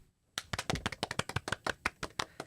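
A small group claps for Robert, a run of about fifteen sharp, distinct hand claps that starts after a brief silence and keeps a quick, slightly uneven rhythm, close and fairly loud, with no talking.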